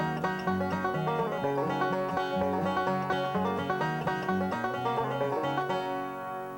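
A banjo played in three-finger bluegrass style rolls out quick, evenly spaced plucked notes in a continuous driving pattern, clear and close, with no voices.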